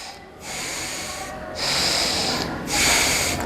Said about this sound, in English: Then right inhale, right exhale 10 times.